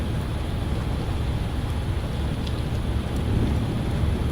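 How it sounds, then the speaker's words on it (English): Heavy rain striking an airliner in a flight simulator game during the climb toward cruise altitude, a steady dense hiss with low rumbling underneath, continuous and fairly loud throughout with no talking. "You can see we are hitting quite a bit of rain."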